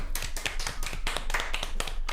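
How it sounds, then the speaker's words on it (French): Hand claps ring out during a French live show segment after a Brittany game is presented, sharp irregular claps from a small group, fairly loud and steady across the moment with no talk over them. "on peut applaudir le jeu Bretagne de Mathieu."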